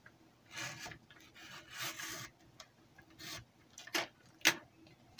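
Scissors cutting through a folded newspaper brochure into strips about 4–5 cm wide for paper-tube weaving, a series of soft, close, uneven papery snips and rustles.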